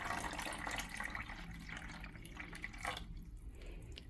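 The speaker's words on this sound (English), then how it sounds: "the first thing you want to do is top it up with water" Water poured into a HYGGER aquarium filter to top it up, a steady close splashing and trickling fill that runs for several seconds with a brief louder gush near the end.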